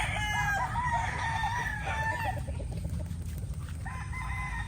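Yellow-legged hatch chickens and pullets, with a rooster crowing in repeated calls alongside clucking from several birds, close and fairly loud over a steady farmyard background.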